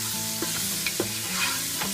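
Garlic and onions frying and being stirred in a pan for Saudi kabsa, a dense continuous sizzle with soft periodic scrapes of the spoon, close and fairly loud.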